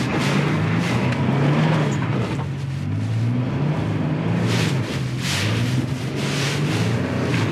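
A Nissan Xterra stuck off-road on its tires roars under heavy throttle, the engine revving hard and rising and falling in pitch while loud, sustained and close, with the sound of wheels straining beneath it.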